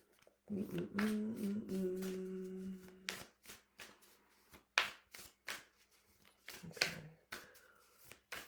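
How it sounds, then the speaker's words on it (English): Oracle cards being shuffled and drawn by hand for a Virgo new moon reading, giving a run of soft papery riffles and flicks followed by scattered light card taps and slides, close and fairly quiet. "let's draw one of these cards"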